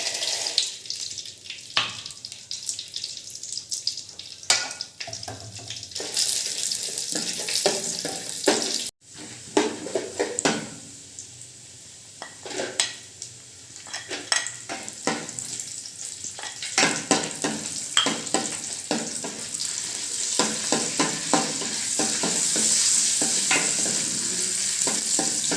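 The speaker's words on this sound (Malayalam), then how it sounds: "പൊട്ടുകടലയൊക്കെ നമുക്കൊന്ന് വറുത്തെടുക്കാം." Raisins, cashews and roasted gram fry in ghee while being stirred for sweetened flattened rice, giving a continuous sizzle broken by scraping and clinking strokes of the spoon, close and moderately loud.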